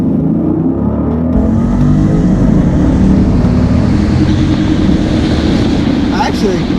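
A Jeep Grand Cherokee SRT8 accelerating hard at full throttle, a loud, steady engine roar from inside the cabin that holds strong for several seconds, with voices talking underneath.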